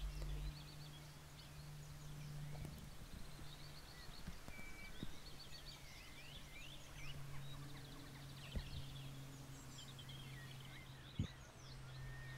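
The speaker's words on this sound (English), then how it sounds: "The bird is also making soft calls like a low whistle." A nesting curlew gives soft, low whistle calls, faint and scattered across a steady outdoor background with other small birds chirping now and then.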